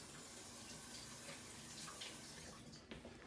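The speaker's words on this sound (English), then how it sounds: "Let me wash this knife now because it hit the floor too." A knife rinsed under a running kitchen tap, a steady close rush of water streaming and splashing into the sink throughout, alone without speech.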